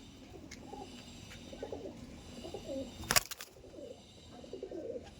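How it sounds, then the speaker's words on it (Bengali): Male Andhra pigeon cooing in a repeated series of soft, low coos, a fairly close bird among faint background chatter, with a brief sharp clatter midway. "এই দেখুন এটা হচ্ছে মেল পায়রা"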